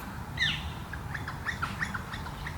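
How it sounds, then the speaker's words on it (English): Bright woodpecker calls ring out: a sharp double chirp, then a run of shorter chirps at irregular intervals over a low, steady background rumble, with no talk. "Oh, woodpeckers."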